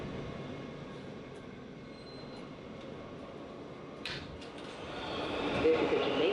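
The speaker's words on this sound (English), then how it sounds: "This is a Jamaica 179th Street bound F local train." A New York subway F local train rumbles steadily from inside the car, with a few faint clanks and a rising rush of wheels and motors toward the end; a voice is briefly present.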